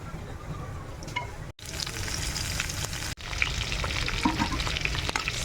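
Ingredients sauté in a pan for pork sinigang, giving a loud, continuous close sizzle with light stirring clicks, interrupted twice by brief near-silent breaks.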